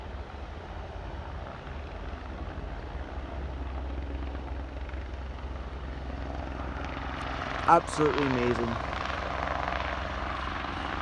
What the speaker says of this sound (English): H175 helicopter. I love the sound.